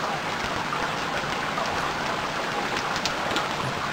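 Rain falls as a steady, dense hiss while diving in the video game Stranded Deep, an even wash of sound with faint scattered drops and no pauses.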